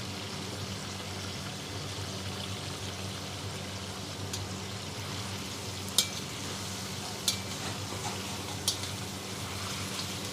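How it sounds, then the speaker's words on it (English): Beef for karahi frying in a good amount of oil over high gas, a steady close sizzle and bubbling with a few sharp pops and crackles rising above it, and no talking. "the beef needs to swim in this oil for a bit"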